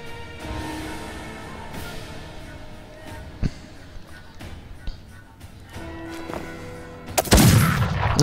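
Scattered gunshots from a Mordheim: City of the Damned battle, including a shotgun blast, pop at irregular intervals over a low background, ending in a loud, crackling burst.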